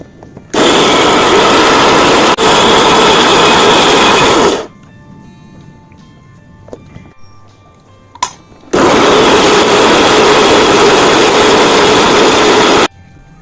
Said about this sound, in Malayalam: നല്ല വെണ്ണ വാരി അരയണം, നന്നായിട്ട് അരയണം.